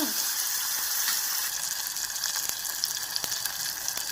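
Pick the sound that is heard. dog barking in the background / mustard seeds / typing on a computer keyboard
mustard seeds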